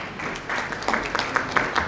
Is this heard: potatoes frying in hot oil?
no